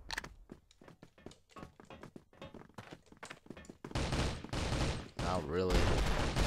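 Gunfire in the video game Crossfire, with a shotgun in use: faint clicks and short sounds at first, then loud repeated blasts and crunchy impacts build up near the end.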